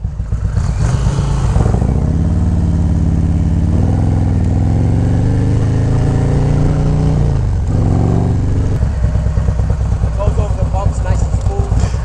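An Indian Challenger motorcycle engine drones loudly and steadily while riding, its pitch rising and falling as the bike speeds up and eases off, with a voice talking over it.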